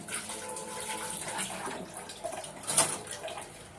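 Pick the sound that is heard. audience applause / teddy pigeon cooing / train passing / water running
water running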